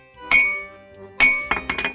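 A metal spike is hammered while forging a warhammer: one loud ringing strike, a pause, then another followed by a quick burst of three lighter clinking blows, all close up with no talking.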